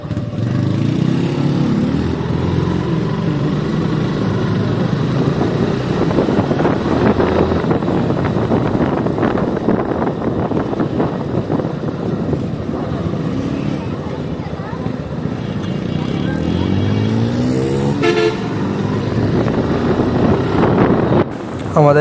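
Motorbike engine noise on a road while riding with other bikes, steady engine drone with wind buffeting the microphone throughout, close and loud.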